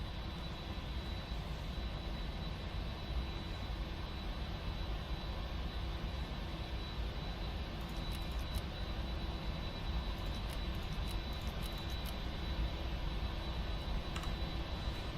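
Four-engine PMDG Boeing 747 jet engines in a flight simulator spool up after start, a steady, continuous broadband roar with a low rumble, holding level throughout with no talk.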